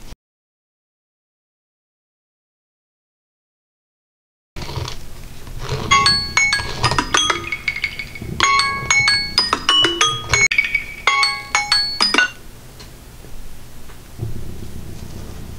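Resin being stirred and mixed in a container with a hand tool, giving repeated light clinks and scraping taps in clustered bursts, close and clear, with no talking.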